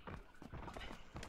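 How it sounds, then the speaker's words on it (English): Enemy player's footsteps inside a house in the PC shooter PUBG Lite, a run of rhythmic thudding steps repeating across the moment at moderate, steady loudness with no talk over them. "Well, I really can hear him. The footsteps."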